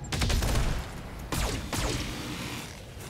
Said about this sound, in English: And then we're going to fire on him.